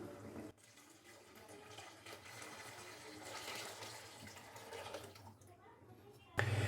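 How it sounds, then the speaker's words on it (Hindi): Water pours into a pot of sautéed potatoes and peas for aloo matar pulao, a faint, steady rushing that runs for about six seconds before cutting off with a soft clunk. "अभी मैं इसके अंदर डाल दूंगा पानी।"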